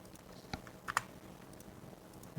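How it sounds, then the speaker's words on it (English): Sparse keystrokes on a computer keyboard while writing Go and Postgres database code: a few scattered, faint clicks with a quick double tap near the middle and another click at the end, over a quiet room with no talking. "Typing too fast."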